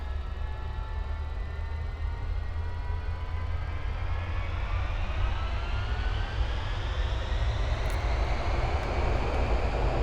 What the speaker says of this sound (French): On va monter la puissance des moteurs.